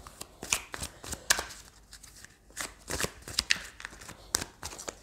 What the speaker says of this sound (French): Alors, on va prendre quelques cartes